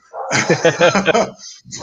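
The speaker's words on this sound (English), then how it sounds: "The thunderstorms and dogs barking." A dog in Mexico barks in a rapid burst of several sharp, close yaps, then one more short bark after a brief pause.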